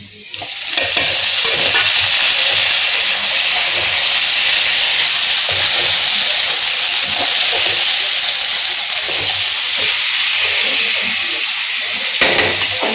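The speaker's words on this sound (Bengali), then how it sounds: "পেঁয়াজ ভাজা হয়ে গেছে, এখন টমেটো দিয়ে দেবো" Tomatoes tipped onto fried onions in a pan burst into a loud, close, steady hiss of sizzling and steam that carries on evenly, with faint stirring scrapes and no speech over it.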